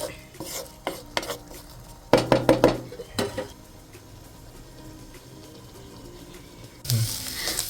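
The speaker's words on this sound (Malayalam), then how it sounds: "ഇനി നന്നായി ഒന്ന് മിക്സ് ചെയ്യുക" A spoon mixing milky mushroom roast masala in a pan, with loud clattering scrapes and knocks in bursts, then a quieter stretch of soft sizzling and a final burst of scraping.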